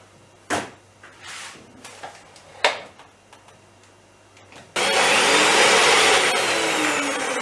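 A few sharp knocks and clicks as eggs are cracked, then an electric hand mixer starts up loudly and whirs continuously at close range, whisking eggs.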